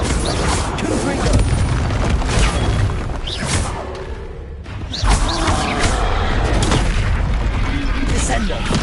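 A Confringo blasting spell goes off in Hogwarts Legacy amid a loud, busy fight, with booming explosive bursts and clanking hits packed together, briefly dropping away before the barrage resumes.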